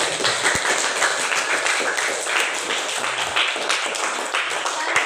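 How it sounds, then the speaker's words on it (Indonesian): Students in a classroom or auditorium clap their hands together in a steady, dense burst of applause that runs throughout, with some voices mixed in underneath. "Tepuk tangan dulu untuk kalian semua."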